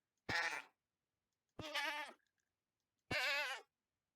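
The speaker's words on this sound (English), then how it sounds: "And this is for a screaming goat" Three loud, humanlike screams from a Minecraft screaming goat being hurt, each about half a second long, separated by short silences.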